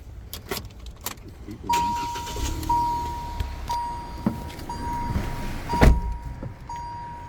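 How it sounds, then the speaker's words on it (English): A 2019 Kia Rio Sport is started from inside the cabin: keys jangle, a chime beeps repeatedly, and the engine turns over into a low idle, with a louder thump near the end. "So we'll jump in, start this one up for you."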